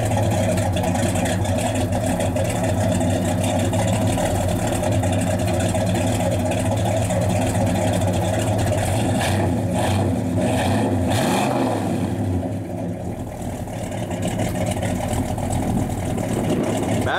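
A 1970 Chevrolet Chevelle SS 396 V8 with factory exhaust manifolds and 2.5-inch Flowmaster mufflers, idling with a steady low throb throughout, dipping briefly near the end.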